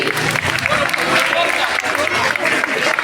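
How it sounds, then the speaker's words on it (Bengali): A school audience at an annual function and prize-giving breaks into continuous crowd applause, dense and steady for a few seconds, with voices faintly mixed in. "হাততালি দাও।"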